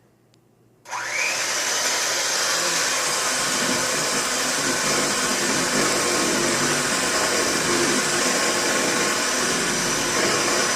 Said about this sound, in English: you take your blender, which is going to be kind of loud